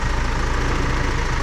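A tractor engine idles steadily during work moving big hay bales on a farm, a continuous dense low rumble with no talking.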